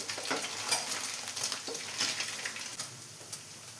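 Paneer cubes fry in hot oil with a steady, close, bubbling sizzle that carries evenly throughout and has no talking over it.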